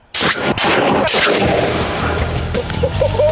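A cannon fired with a tin of petit pois peas loaded in the barrel, one sudden, very loud close blast followed by a rumbling, crackling tail and debris clatter.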